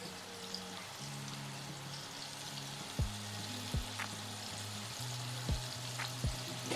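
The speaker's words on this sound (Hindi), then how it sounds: "जब तक ये फ्राई हो रहा है मैं नेक्स्ट कोटिंग कर लूँगी" Coated chicken tender pops fry in hot oil with a continuous soft sizzle and bubbling, steady and close, broken by a few sharp pops and taps of a utensil against the pan.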